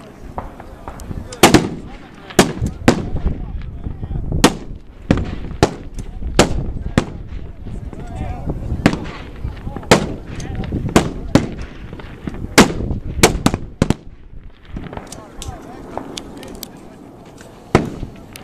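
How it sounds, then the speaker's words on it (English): Rifle shots ring out across a 200-yard outdoor range during a prone slow fire match: many sharp, loud cracks, some close and some farther off, at irregular intervals, with faint voices in the background. "20 shots for record at 200 yards."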